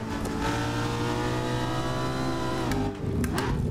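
Car engine in the Assetto Corsa racing game, sounding like a BMW E90, revving hard with a rising harmonic whine, then a brief dip as the gear shifts and the engine picks up again, loud and close without talk.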